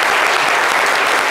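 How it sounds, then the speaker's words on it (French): Dense audience applause, loud and continuous, a crowd clapping together without pause. "Applaudissez-le bien."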